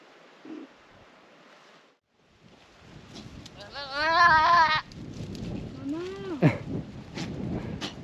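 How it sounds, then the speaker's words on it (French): Goats bleat loudly outdoors on Cat Island in the Bahamas: a long wavering cry, then a shorter sliding call, mixed with wind noise and people talking nearby. "On a les chèvres qui crient"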